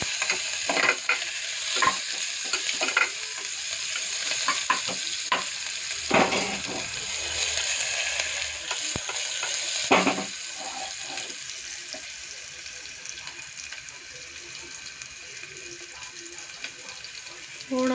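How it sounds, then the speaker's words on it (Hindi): Onions sizzle steadily in a pan for aloo pulao while a spoon stirs them in repeated scraping strokes. The frying is close and moderately loud and runs throughout. "थोड़ा सा पिंक होने देंगे हम प्याज को।"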